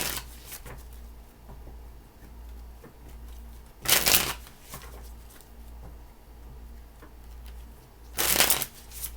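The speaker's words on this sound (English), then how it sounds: "3 more shuffles." Tarot cards are shuffled in two short, crisp bursts several seconds apart, close by, over a low steady hum.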